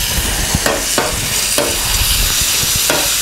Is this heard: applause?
no